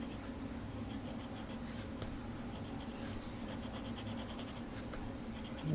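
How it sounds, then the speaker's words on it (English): A soft B graphite pencil drags across paper in a continuous, faint, dry scratching that stays steady throughout with no speech. "I'll use a B pencil."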